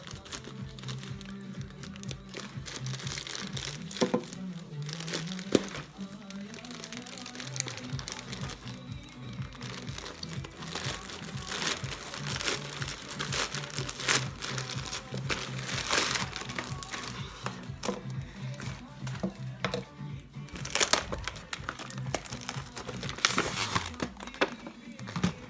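Plastic packaging of a newly delivered sport camera crinkles and crackles as it is unwrapped, in dense irregular bursts with sharper tearing snaps near the end, close to the microphone for nearly half a minute.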